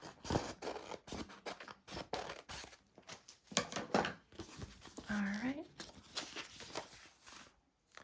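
Scissors snip and trim scrapbook paper for a junk journal in a series of short crisp cuts, close and fairly quiet, with paper rustling and handling noises around them.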